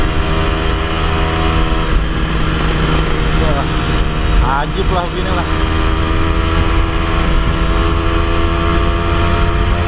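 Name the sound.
RG Sprinter motorcycle engine while riding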